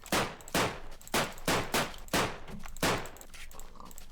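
Colt pistol from a Minecraft Flan's Mod World War Two pack fires about seven sharp, evenly spaced shots, each a loud crack with a short tail, followed by quieter clicking and mechanical handling.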